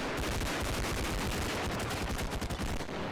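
Rapid automatic gunfire in the realistic shooter game Bodycam, fired down a stairwell. A dense, continuous barrage of loud, close shots fills the whole stretch with no voices.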